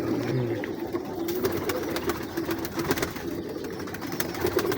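Performer pigeons coo softly and steadily for a few seconds, close at hand with low background noise and no talking.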